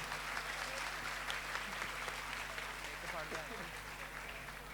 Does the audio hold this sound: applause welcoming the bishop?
yes